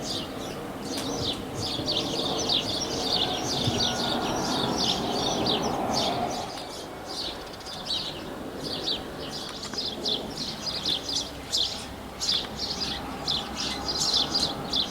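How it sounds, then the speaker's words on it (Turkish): Birds chirp and sing continuously in a backyard garden, with bright overlapping tweets over a steady outdoor background. "Kuş sesleri."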